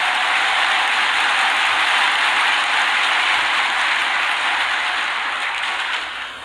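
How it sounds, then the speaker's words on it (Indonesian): Loud, dense applause from a large crowd at the closing of a Partai Demokrat party congress, a continuous roar of clapping that holds steady and eases slightly at the end. "Berikan tepuk tangan dan sekeras-kerasnya untuk Bapak Presiden kita."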